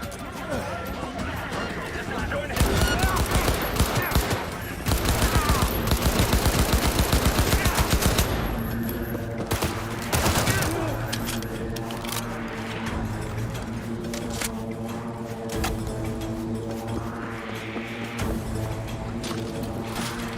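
Rapid automatic gunfire from a Cyberpunk 2077 firefight rattles loudly in sustained bursts, then fades to scattered shots under game voices and ongoing talk.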